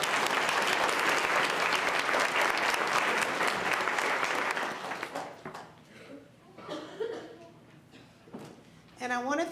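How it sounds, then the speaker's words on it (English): Audience applause at a school spelling bee, dense clapping from a seated crowd for about five seconds that thins into scattered claps, a few chuckles and low murmuring chatter before a last flurry. "let's give a round of applause to them."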